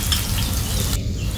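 Dried red chillies and chopped onions sizzle in hot mustard oil, a steady close frying hiss with a brief dip near the end and no voices.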